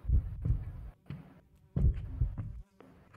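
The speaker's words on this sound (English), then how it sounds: "All I hear is my heartbeat." Heartbeat sound in a horror video game after the music cuts out, a muffled low thumping in paired beats repeating steadily, soft and close with no voices over it.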